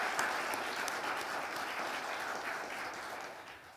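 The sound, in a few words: audience clapping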